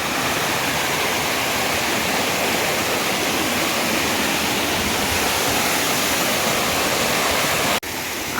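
A waterfall in the forest hills of Mayurbhanj, Odisha roars as a loud, steady wash of falling water close by, unbroken until a brief dip near the end.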